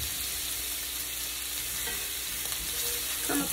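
Chopped onions fry in a pan as the base for meat patties in gravy, giving a steady, close sizzle with a constant crackling hiss and a few light stirring clicks near the end.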